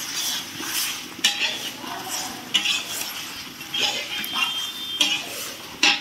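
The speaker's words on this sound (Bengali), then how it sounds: "মাংসটা দিয়ে এবার ভালো করে কষানো হবে" Chicken being stir-fried (kosha) in a pan, with broken, uneven scraping and stirring and a light sizzle underneath, plus occasional sharp clinks of a utensil against the pan.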